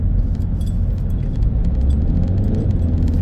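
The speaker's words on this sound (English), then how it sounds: "I'm driving a diesel. This is a diesel car." A diesel car driving along, heard from inside as a steady, loud low-pitched engine and road rumble with faint light rattles on top.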